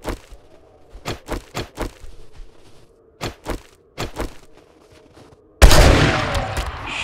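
Gunfire in the survival video game 7 Days To Die cracks out in sharp, irregular single shots and short bursts, then gives way to a sustained loud roar at the end.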